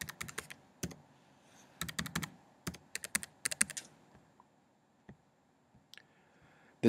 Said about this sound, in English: start typing in my school information